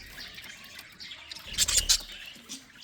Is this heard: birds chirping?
yes